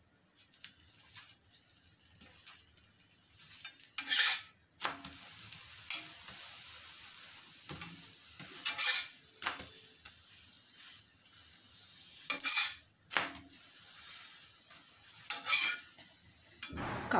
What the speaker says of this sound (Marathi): थेपले भाजताना दोन्ही बाजूनी तेल व्यवस्थित लावायचं